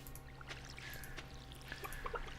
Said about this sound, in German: Und wir fangen hier wieder an zu gießen.